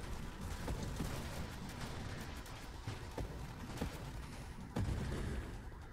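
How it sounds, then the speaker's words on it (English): Quiet, dense crackling battle noise from the space shooter Nova Drift, with a shield explosion breaking through as sharp bursts and thuds over a constant rumbling wash. "Look at that shield explosion"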